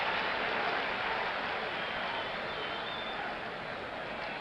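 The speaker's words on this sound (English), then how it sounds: "the applause gets a little louder with every out now." Baseball stadium crowd at the 1970 World Series applauding late in the game; a dense, steady wash of clapping and crowd noise that holds at an even level.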